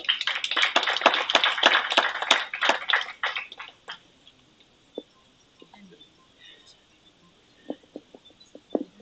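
Clapping from an audience at a national dialogue on HIV, TB, malaria and the law, fairly close and lively at first, thinning out to scattered claps and quiet room noise.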